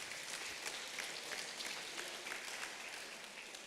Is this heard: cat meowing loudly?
no